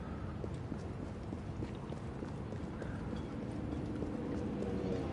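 Horse hooves clip-clopping with cart wheels rolling in Assassin's Creed Syndicate, a steady rapid trotting rhythm over a dense rumbling street bed, continuous and fairly close.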